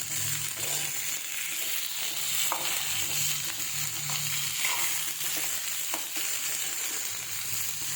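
Small shallots sauté in a pan for a Chettinad dried-fish curry, a steady close sizzle with faint stirring scrapes running throughout without any voices.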